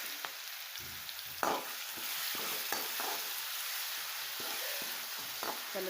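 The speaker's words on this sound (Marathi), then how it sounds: "याच्यामध्ये 2 माप तेल ओतून घेत आहे. याच्यामध्ये टाकणार आहे ही बारीक केलेली मिरची." Finely chopped chili frying in hot oil for sabudana khichdi, with a steady close sizzle broken by scraping stirring strokes from a spoon in the pan.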